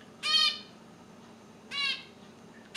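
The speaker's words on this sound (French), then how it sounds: "Il y a des oiseaux dehors." Birds outdoors give two separate harmonic calls, each about a quarter second long and spaced well apart, over a quiet background with no talking.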